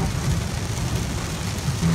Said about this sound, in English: The rain is everywhere.